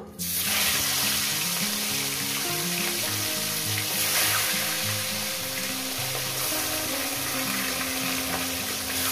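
Fish heads hit hot oil with a sudden loud burst of spitting and crackling that settles into a dense, steady close-up sizzle, with low clattering pan knocks beneath; no talking.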